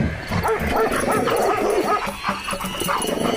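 A bulldog barks and yips repeatedly in a rapid, close, loud series, with some whimpering mixed in, amid a comic scene in the yard of a wealthy man's house.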